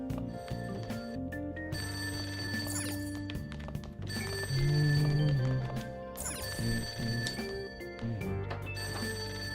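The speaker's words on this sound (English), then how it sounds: "That ringing sounds isn't coming from my cell phone." A landline telephone rings from downstairs in the video game Persona 5 Royal, repeated bell trills over steady game background music, with no voices.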